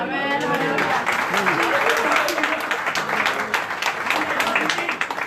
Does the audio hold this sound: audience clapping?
yes